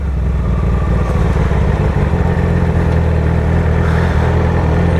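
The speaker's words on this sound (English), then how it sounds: "Always so much traffic in on the highway." Steady engine drone and road rumble from a Yamaha R6 motorcycle riding in highway traffic, loud and close, with a slight rise in pitch midway and no talk.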